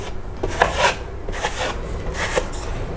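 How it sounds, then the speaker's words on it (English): A drywall knife scrapes joint compound along paper-faced corner bead on drywall, giving close, rough rasping strokes in a few uneven bursts, with no talking. "take your drywall knife and just run your drywall knife, squeezing out the excess on the edge"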